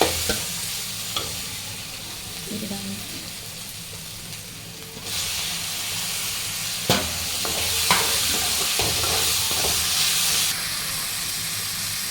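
Tomatoes sautéing in a pan for a Tamil squid fry, a steady close sizzle and hiss with occasional stirring scrapes, brightening after a few seconds and continuing without speech.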